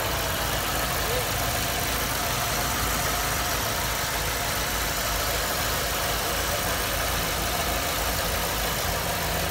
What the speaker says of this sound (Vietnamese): đây là phần máy móc của chiếc xe, anh em thấy đây, máy nổ rất êm, vẫn nổ đều